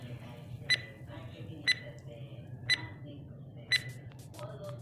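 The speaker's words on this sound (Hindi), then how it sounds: "आपका टाइमर शुरू होता है अब।" A quiz countdown timer effect ticks out four evenly spaced, bright chime-like beeps about a second apart over a low background hum and faint voice.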